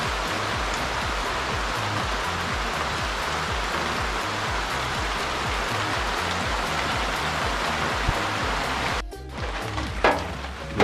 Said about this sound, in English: Rain kind of ease down a little bit